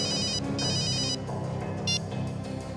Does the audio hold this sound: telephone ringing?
yes